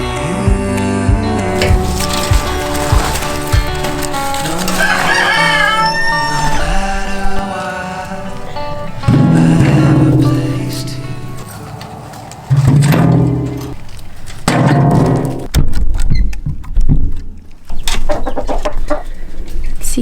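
Backyard chickens cluck and squawk in short repeated bursts, close by, mixed with bird calls and scattered handling noises.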